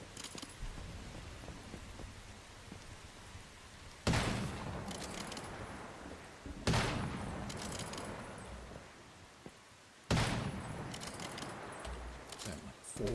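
Gunshots come from the video game Once Human, with a few loud, sudden blasts spaced several seconds apart over a low background bed and no speech over them.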